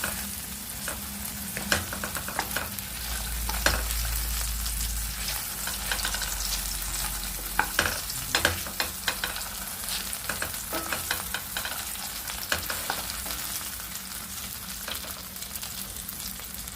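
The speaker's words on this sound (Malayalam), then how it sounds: "ഇപ്പോൾ ഇത് തക്കാളി നന്നായിട്ട് റോസ്റ്റ് ആയിട്ടുണ്ട്" Ripe tomatoes roast in a pan while being turned and stirred, making a steady, close sizzle with frequent clacks and scrapes of a utensil. No one talks.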